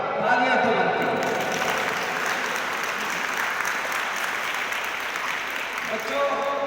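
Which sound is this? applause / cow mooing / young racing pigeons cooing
applause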